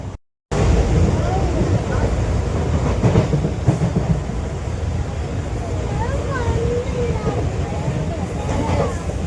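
A train rumbles steadily past a station platform nearby, its wheels clattering and faint squeals of metal rising over the constant low roar.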